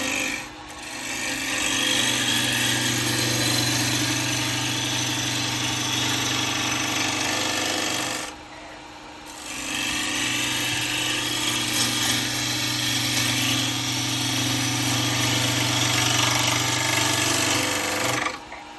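A wood lathe spins a laburnum bowl blank while a gouge cuts it, producing a continuous rough rasping drone that stops briefly, then resumes for several more cuts, with no speech.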